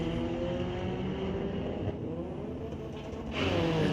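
A 1995 Nissan drag racing at Mission Raceway Park during a Friday night street legal drags event, with a steady, loud engine roar that swells near the end.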